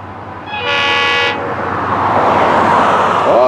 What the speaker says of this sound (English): Now the Fort Pierce train.